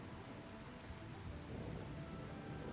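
Video game rain hisses and patters in a dense, even wash of noise, with a low rumble underneath; no voices.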